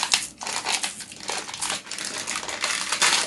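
A small plastic bag of nuts crinkles and rustles continuously as it is opened by hand, loud and close with uneven crackling bursts.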